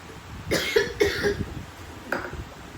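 Two or three harsh coughs in quick succession close to the mic, followed by a softer single cough a moment later, with quiet room noise between them.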